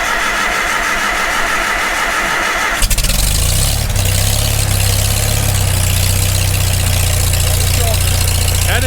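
A rebuilt Farmall Super M tractor engine cranks, then catches near the three-second mark and settles into a loud, close, steady running rumble.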